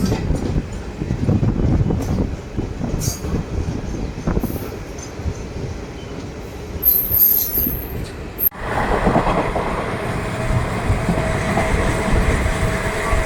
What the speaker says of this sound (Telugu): మెయిన్ లైన్లో ఉన్న గూడ్స్ ట్రైన్ని లూప్ లైన్ నుండి అయితే ఓవర్టేక్ చేస్తుందండి Ahalya Nagar super fast express